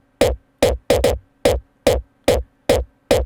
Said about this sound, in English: Let's start with attack sample. I did it with Drumazon drum machine